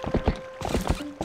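Horse hooves clip-clop in Zelda Twilight Princess HD, a quick series of loud, close hoofbeats in an uneven trotting rhythm with a faint tonal hum of game music beneath.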